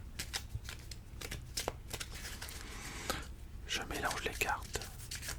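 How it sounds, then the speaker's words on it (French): Tarot cards are shuffled close to the microphone, giving quick, crisp riffling ticks and soft sliding swishes. The shuffling stays quiet throughout, with gentle whispering in the background. "Je mélange les cartes."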